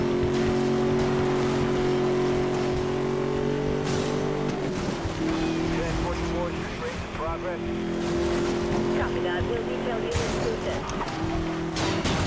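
Chevrolet Camaro engine in Need for Speed Most Wanted, a steady, loud, droning hum that holds at a constant pitch with a slight shift partway through, while a voice talks over it.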